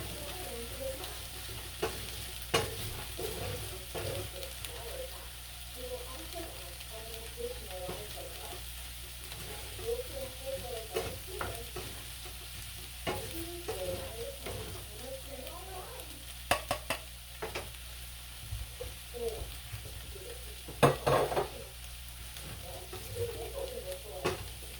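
Carrots and green peas sautéing in a pan for shepherd's pie, a soft steady sizzle with occasional stirring clicks and light pan knocks, close and moderately quiet.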